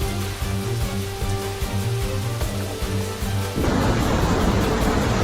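Torrential rain during catastrophic flooding, heard as a dense, loud rushing hiss. Low rumbling pulses run under it, and the roar turns broader and heavier for the last second and a half.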